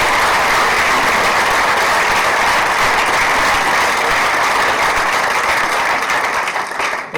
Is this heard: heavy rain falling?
no